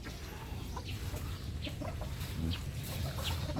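Breeding-pair chickens cluck in a pen, giving a scattering of short, soft clucks at moderate distance over a faint, steady outdoor background.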